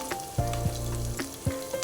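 Three spicy green chillies frying in hot oil for a snakehead fish pickle give a steady sizzle with a few soft stirring bumps.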